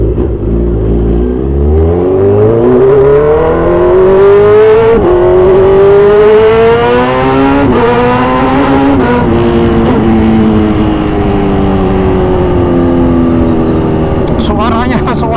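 A 2014 Kawasaki Z1000 Sugomi motorcycle, fully modified with an aftermarket exhaust, revs hard through rising engine pitches and quick-shifted gear changes, loud and close, with the engine note sweeping up and dropping repeatedly.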